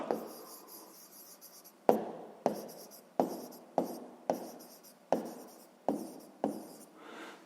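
Pen or pencil writing a math note by hand on paper, a steady scratchy scrawl broken into seven or eight short strokes with sharp onsets, close and fairly quiet, with no talking.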